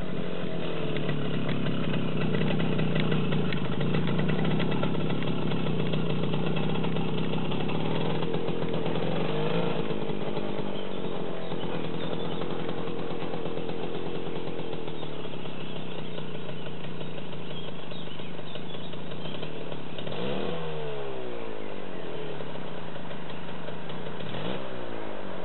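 A small Romet motorcycle engine runs continuously on a first ride, a steady buzzing drone with slight rises and falls in pitch as it moves off, loud and close throughout.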